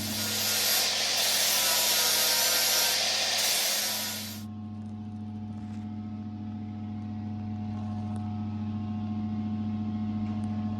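Welding on the passenger step of a Transporter van: a harsh, steady crackling hiss runs for about four seconds and then cuts off, leaving a low, constant electrical hum.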